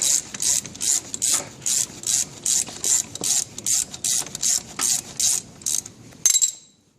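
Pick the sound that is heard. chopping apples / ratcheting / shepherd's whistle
ratcheting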